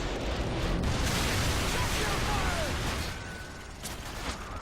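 A BTR armored vehicle blows up in Modern Warfare 2 with a loud, sustained blast of roaring rumble and debris noise that slowly thins out toward the end.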